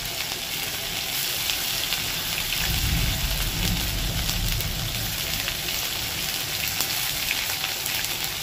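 Grated ginger frying in a pan for khichuri, a continuous close sizzle with a brief low rumble of stirring midway, no voices.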